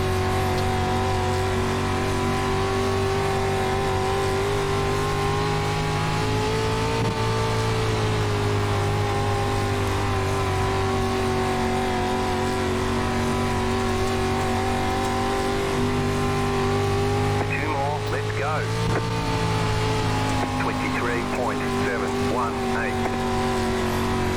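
A dirt street stock race car in the iRacing sim at Knoxville Raceway drones with a steady, loud engine note that rises and falls with throttle, while a driver talks over it throughout.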